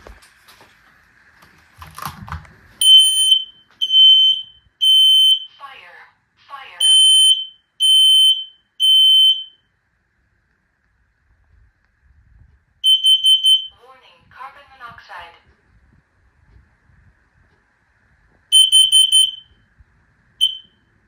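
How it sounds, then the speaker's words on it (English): A smoke and carbon monoxide alarm sounds loud, piercing beeps in several rapid bursts, with quiet gaps and faint voices in between. "I'm going to turn that smoke alarm on and I want to see if these cameras pick up that smoke alarm"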